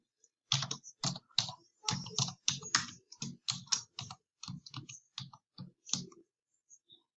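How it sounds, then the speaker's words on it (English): Fast, uneven bursts of computer keyboard typing, close and distinct, as a name is entered into a document header in Microsoft Word, with short pauses between clusters of keystrokes and no talking. "So for this header, let's type our name in there."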